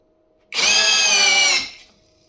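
A small LEADER cordless impact screwdriver spins up suddenly with a high, steady whine for about a second, then its protection cuts out and the motor winds down and fades to silence, recorded close up.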